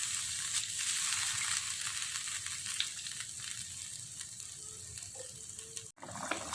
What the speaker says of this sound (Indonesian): Sekarang airnya udah mendidih